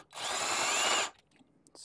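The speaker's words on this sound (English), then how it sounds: "got the drill" A power drill whirs up for about a second at a steady high pitch, close and loud, then cuts off, followed by faint handling noises.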